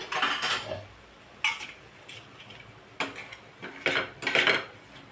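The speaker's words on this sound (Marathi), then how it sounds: "मी हे प्लेटमध्ये काढून घेते" A spoon scrapes tomato chutney out of a pan onto a plate in about six short, sharp metallic scrapes and clinks, spaced irregularly, with quiet gaps between them.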